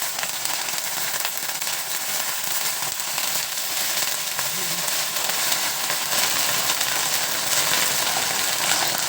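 Pork ribs fry in oil in a pan, giving a loud, dense, crackling sizzle that holds steady and close throughout with no pauses.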